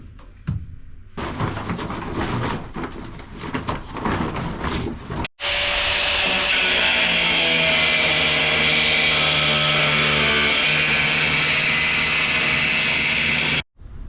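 Angle grinder working on a boat, a loud sustained high whine after a stretch of rattling and knocking, running close for about eight seconds before cutting off.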